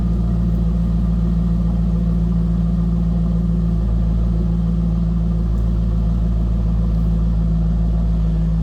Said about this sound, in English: This has a nice throaty exhaust note.